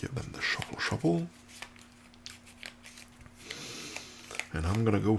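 Cards for the Bloodborne board game are shuffled on a tabletop, with a brief riffling and sliding of cards between stretches of talk and a faint background hum.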